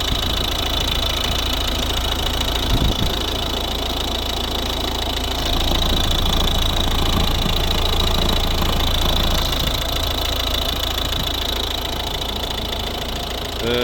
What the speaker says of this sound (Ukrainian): У нас робота двигуна